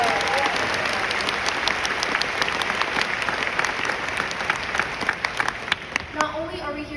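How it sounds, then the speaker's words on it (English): Crowd at a high school graduation ceremony applauds, a dense sustained wash of clapping with a few sharper claps standing out near the end. "let's give us a big round of applause"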